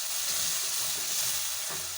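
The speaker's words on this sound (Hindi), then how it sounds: "1-2 मिनट के लिए इसको हम थोड़ा सा भून लेंगे।" Spices for a matar aloo curry, including turmeric and salt, fry in hot oil with a dense, even sizzle and hiss, close up and steady throughout, with faint stirring underneath and no speech.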